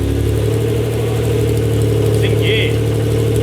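A Honda NSX engine drones steadily at idle with a low, continuous rumble; a brief higher-pitched tone briefly rises over it.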